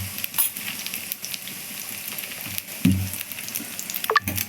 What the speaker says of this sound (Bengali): তো ওটা ভাজা হচ্ছে